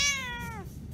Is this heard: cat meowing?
yes